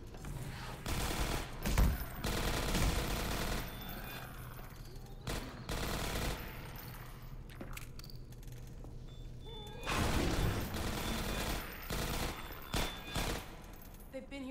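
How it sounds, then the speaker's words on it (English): Automated turrets in Half-Life 2 Episode One fire long, rattling bursts of rapid gunfire. The bursts come and go in loud waves separated by brief lulls, with mechanical clatter in between. "I hear turrets."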